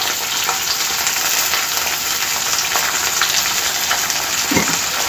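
Chopped onions sizzle loudly in hot oil in a pan for aloo methi curry, a steady close-up hiss with a brief stirring clatter near the end.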